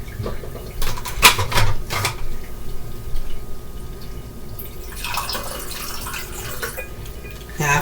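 Ice cold water pours from a tap into a container in a home kitchen, a steady running splash with a few drips and clinks near the start, continuing fairly quietly throughout.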